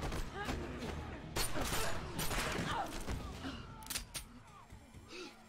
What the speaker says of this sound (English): this gunshot's going off